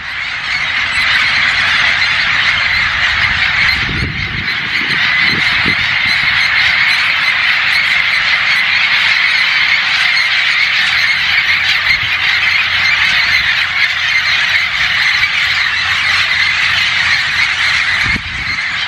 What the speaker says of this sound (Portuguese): olha só a quantidade de papagaio que tá voando aqui